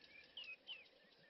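A sitting cisticola calls faintly from the background, two or three thin, high chirps over soft ambient noise out in the African bush.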